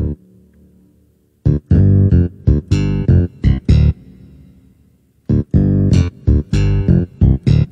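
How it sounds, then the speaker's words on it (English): A funky, punchy bass line plays in short syncopated stabs, repeating the same riff twice with brief pauses between phrases. "Starts off with a little funky bass line"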